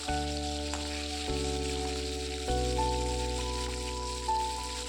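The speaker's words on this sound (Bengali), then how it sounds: "সর্ষের তেল ভালো করে গরম করে নিয়েছি নিয়ে এবার মাছগুলো দিয়ে ভালো করে লাল লাল করে ভেজে নেবো" Fish fry in hot mustard oil with a soft, steady sizzle, heard under prominent background music.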